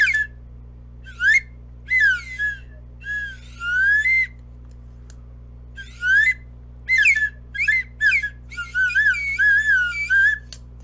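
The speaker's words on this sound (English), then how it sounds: "And I got another little tiny slide whistle." A little tiny slide whistle is blown in short bursts, shrill tones swooping up and down, some held and some quick and chirpy, with pauses between phrases and a faint low hum beneath.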